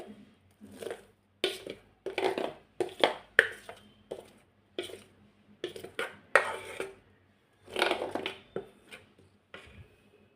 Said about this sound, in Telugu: బబ్బులు లేకుండా ట్యాప్ చేసుకోవాలి